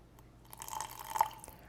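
A small splash of liquid added to a Mexican Caesar salad dressing gives one soft, brief pour and drip in a quiet kitchen.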